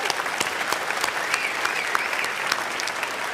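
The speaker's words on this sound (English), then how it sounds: "Give her a big round of applause." An audience at a gala dinner for the NZ Hi-Tech Awards applauds continuously, dense close clapping that holds steady for the whole stretch.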